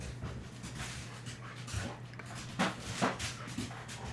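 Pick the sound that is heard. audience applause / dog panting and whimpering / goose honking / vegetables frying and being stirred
dog panting and whimpering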